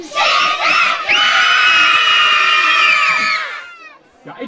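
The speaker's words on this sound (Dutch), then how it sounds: "Bij 3 gaan we weer heel hard Sinterklaas roepen." A large crowd of children at a Sinterklaas arrival in Oosterwolde yelling in unison, a loud sustained shout lasting about three seconds before trailing off, with brief voices after.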